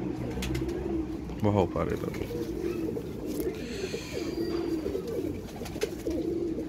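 Female pigeons in a Pakistani pigeon-keeping loft give soft, repeated low coos close by, under someone talking and a few brief rustles and clatters.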